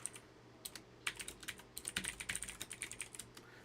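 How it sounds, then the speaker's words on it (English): Rapid, crisp keystrokes clatter on a clicky mechanical computer keyboard, a steady run of sharp clicks at close range with no talking over it. "So you guys might notice that my keyboard's extra clicky today."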